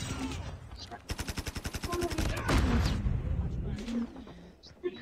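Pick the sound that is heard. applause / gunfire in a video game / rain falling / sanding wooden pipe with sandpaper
gunfire in a video game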